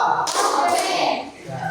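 A class of students at an Indonesian junior high school claps together in a classroom call-and-response routine, giving a dense, noisy burst of clapping of about one second mixed with children's voices.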